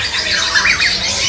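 A crested songbird gives a loud, close, squawking call at a bird market kiosk, set against a dense bed of other bird chatter.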